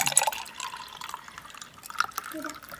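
Juice poured into a glass holding ice cubes in a home kitchen, making a short, close, fairly quiet liquid splash and trickle with light bright clinks, heard alone.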